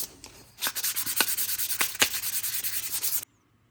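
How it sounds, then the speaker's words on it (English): Fine 600 grit sandpaper rubbed over a walnut wood spoon rest, steady rhythmic back-and-forth scratching strokes close up for about three seconds, then stopping abruptly. "Now we're going to finish it off with a piece of 600 sandpaper."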